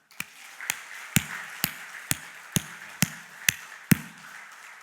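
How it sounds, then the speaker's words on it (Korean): A church congregation at a Sunday morning service claps in unison, about nine sharp, evenly spaced claps at a steady rhythm over a faint background. "우리 교회에서 수고하시는 모든 분들과 장 목사님을 위해서 박수로."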